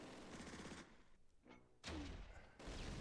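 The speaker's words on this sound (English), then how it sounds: "Some enfilading fire, but I am responding in kind with my T-34-85, mortars, and small arms." Faint bursts of small-arms fire and heavier thumps, like tank and mortar rounds, from a Close Combat World War II battle game, crackling in quick volleys under quiet background sound.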